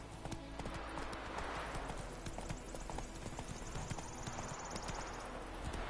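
Geralt's horse Roach clip-clops along at a steady trot in The Witcher 3, rhythmic hoofbeats repeating close by over soft ambient game sound.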